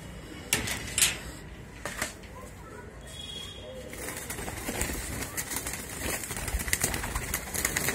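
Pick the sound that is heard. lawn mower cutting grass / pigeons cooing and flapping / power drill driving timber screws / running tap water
pigeons cooing and flapping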